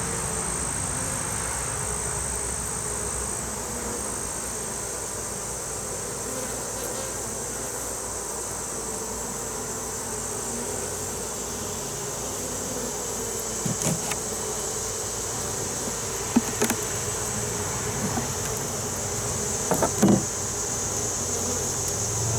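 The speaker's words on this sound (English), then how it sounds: "there's some bees hanging out on it" A steady, faint insect buzz persists throughout from bees gathered on a beehive frame, with a constant high whine and a few soft clicks near the end.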